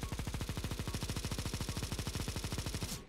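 Rapid automatic gunfire from a Counter-Strike match on the Dust 2 map, a steady burst of about thirty evenly spaced shots over three seconds, loud and close, ending abruptly as the magazine runs dry.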